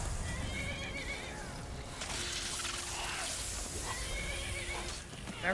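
A horse neighs in a fantasy video game during a dragon attack, several shrill whinnies standing out with a few clip-clop hoof sounds beneath, over a constant noisy game backdrop, with no speech.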